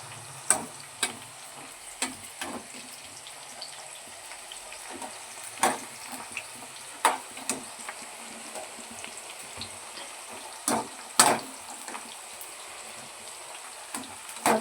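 Sliced bitter gourd fries in a pan, a soft steady sizzle under scattered sharp scrapes and clacks of a spatula stirring it, close and without voices.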